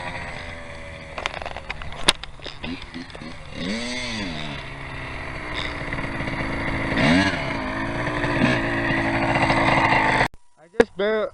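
A dirt bike roars past fast, its engine pitch rising and falling in swoops as it nears and recedes, with people talking over it outdoors.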